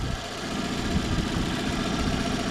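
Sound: car engine idling while warming up

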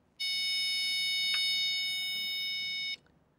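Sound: electronic alarm sounding from logic alarm circuit project

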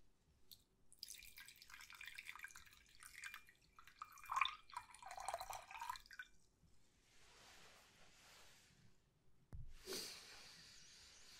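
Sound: water poured into a vial

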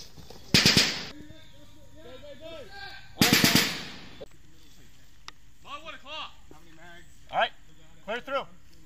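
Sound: gunfire during an army squad shooting exercise

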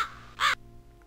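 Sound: bird calling in the video game Chronomaster

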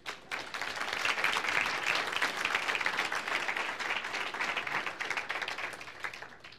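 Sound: audience applause for the workforce

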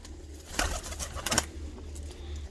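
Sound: Botosani pigeons cooing

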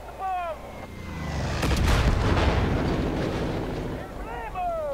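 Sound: bomb explosion in the video game Far Cry 5

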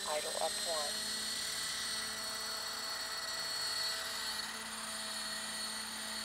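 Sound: Roban EC130 800 scale RC helicopter rotor spinning

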